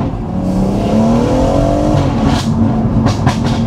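BMW M140i with a modified exhaust heard from inside while driving, a loud rising engine note as it accelerates through the revs, with a few sharp crackles near the end and no talk.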